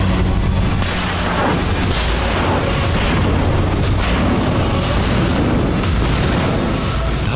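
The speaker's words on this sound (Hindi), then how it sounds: "जहाजों से मिसाइलें दागी जा रही हैं।" Missiles launched from warships during a Russian military exercise roar in a dense, continuous blast of loud rumbling noise, with repeated booming surges and no pauses throughout.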